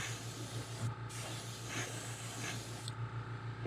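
Airbrush at low pressure spraying paint onto a shad-pattern glide bait lure, a soft airy hiss in short bursts with brief pauses, over a steady low hum.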